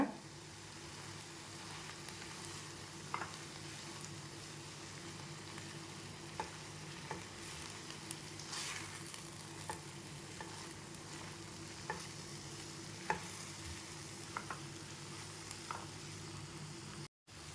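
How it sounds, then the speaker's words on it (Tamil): Mint leaves sautéing in a pan for mint chutney, a steady low sizzle throughout with occasional scraping stirs and light taps, close and fairly quiet. "இப்போ நான் புதினா தழை போட்டுக்கிறேன். போட்டு நல்லா கிளறி விட்டுக்கோங்க."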